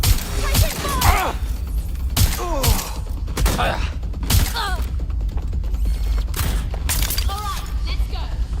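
Gunfire during a firefight in the video game Watch Dogs Legion: sharp, scattered shots and mechanical clacks in uneven bursts, with voices talking over the action.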